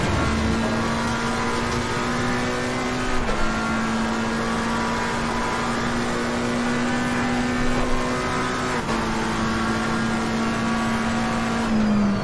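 A race car engine at Monza in Assetto Corsa Competizione holds a loud, steady high-pitched drone, with a few quick gear-shift dips and pitch steps over about twelve seconds and no talk.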